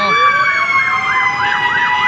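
A loud fire truck siren wails in rapid rising-and-falling sweeps, steady and close, responding to a fire near a pier lighthouse area, with a constant high electronic tone layered over it.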